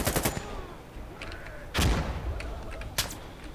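MK14 sniper rifle shots in Insurgency Sandstorm, several sharp loud cracks with ringing tails, spaced irregularly, amid distant gunfire.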